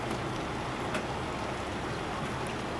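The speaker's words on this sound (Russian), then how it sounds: "Все утро дождь." Steady, dense hiss of rain falling continuously on a street in Lazarevskoye by the Ashe river valley, fairly close, with no voices or other distinct sounds over it.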